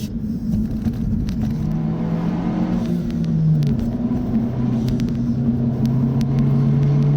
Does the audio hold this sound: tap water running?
no